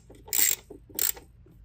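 Ratchet tightening a throttle body bolt on a Mazda 3 with a 2.5L Skyactiv engine: two short, close clicking strokes about half a second apart, quiet between.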